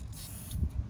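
An aerosol can of clear coat, used to paint Mazdaspeed3 air vents, sputters and hisses unevenly. The faint, irregular bursts come close up with no voices.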